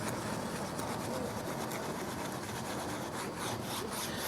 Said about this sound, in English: Now you notice I'm just working the brush gently in there.